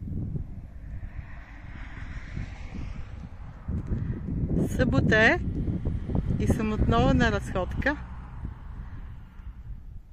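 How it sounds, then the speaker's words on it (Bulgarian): Light wind gusting outdoors on a walk, a steady low rumble buffeting the microphone under someone speaking throughout. "Леко ветровито е."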